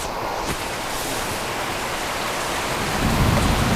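Heavy rain pours steadily with rumbling thunder underneath, a dense continuous wash that swells louder near the end, with no voices present.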